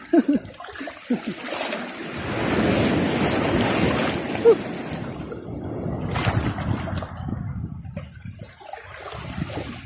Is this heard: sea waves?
yes